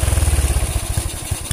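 Honda Super Cub motorcycle with a modified loud exhaust, idling close by in a steady, rapid throbbing putter that loosens and turns uneven toward the end, with no talk over it.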